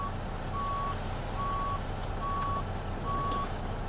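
Steady reversing beeps from a truck backing up to a trailer in Euro/American Truck Simulator, four evenly spaced tones over a constant engine rumble.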